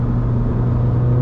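A car engine runs steadily close by with a low, throaty idle rumble and no clear rise in pitch, holding an even drone without talk for just over a second.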